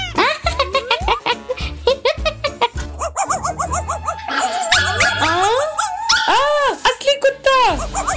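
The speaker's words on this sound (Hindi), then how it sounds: "असली कुत्ता।" A real dog, heard alongside a robot dog, whimpers, yips and gives short barks in quick bursts, close and loud, with people talking over and between the sounds.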